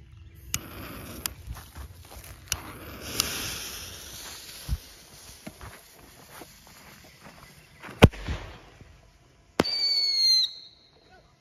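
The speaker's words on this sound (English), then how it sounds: "Top Gun fireworks." A Top Gun single-shot parachute firework is launched outdoors. Scattered sharp pops and cracks lead into a loud thump and then a brief whistling rise near the end.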